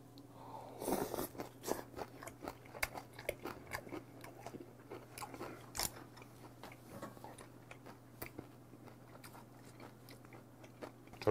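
Someone chews bony Jeju damselfish sashimi served with the bones, producing irregular crisp crunches and bites close to the mic over a low steady hum, with no talking.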